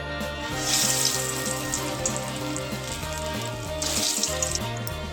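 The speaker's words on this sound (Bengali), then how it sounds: "বড়াগুলো ঠিক আমি এরকম বলের মতো করে ভাজি" Cucumber pakora balls deep frying in hot oil, a steady, broad bubbling hiss with no talk, swelling louder near the start and again toward the end.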